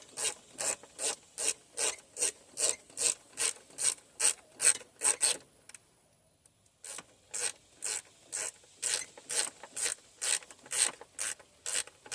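A ratchet tightens thermostat housing bolts on a Dodge 2.4L engine, a rapid run of rhythmic clicking strokes that pauses briefly and then resumes, close and clear with no talking.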